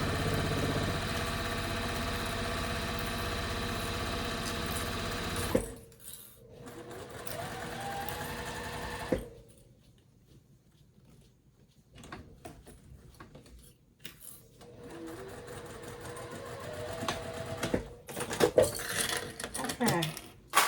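A sewing machine stitches through the quilted layers of a boxy bag at a quarter-inch seam and 2.5 stitch length, running in steady bursts with pauses and handling noise between runs.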